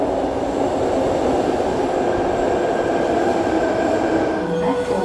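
Sydney Metro train running between Martin Place and Town Hall: a steady, loud underground rumble with a constant broadband roar and faint wheel hum, continuous throughout with no talking.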